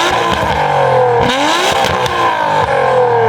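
Nissan R34 GT-R fitted with universal valved mufflers and a free-flow downpipe, revving loudly and close, rising and falling through several sharp throttle blips with a raspy, busy exhaust note.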